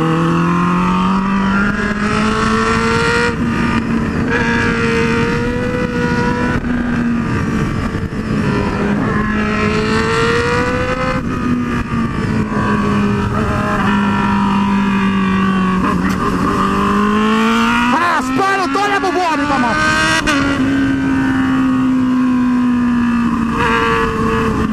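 A Honda Hornet motorcycle with a quick shifter roars loud and close as it overtakes two bikes on a track, its engine note climbing and dropping through quick gear changes, with one sharp high rev burst near the end.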